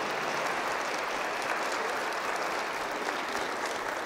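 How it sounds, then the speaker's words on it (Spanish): Steady, dense applause fills a wedding mass at Rectoría San Judas Tadeo in León as the congregation claps for the newlyweds, even and sustained throughout with no voices. "vamos a darles nuevamente un fuerte aplauso a estos esposos"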